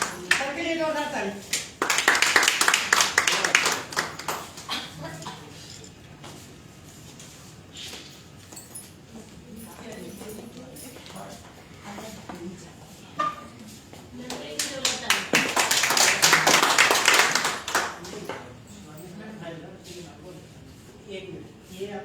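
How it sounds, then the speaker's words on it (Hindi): Two loud bursts of group clapping from a workshop audience, each lasting a couple of seconds, separated by a stretch of talk and quieter ambient noise in the room. "सबके लिए जोरदार ताली।"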